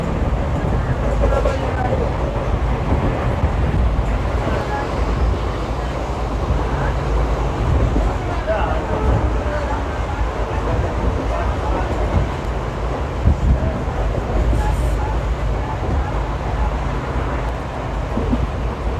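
A passenger train on the Nanded to Kinwat line runs steadily past green countryside, a continuous loud rumble and rattle of the carriage with a voice talking over it.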